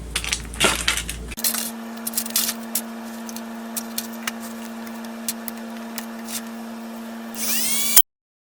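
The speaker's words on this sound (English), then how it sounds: "Let's dremel it." A Dremel rotary tool bites into a plastic night light during battery extraction, holding a steady high whine with a constant tone throughout, punctuated by small clicks and scrapes, then ending abruptly.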